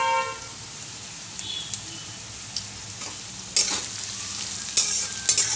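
Fried pumpkin sizzling in a pan as sugar goes in, a soft steady frying hiss with a few sharp scrapes and clatters of a spoon against the pan.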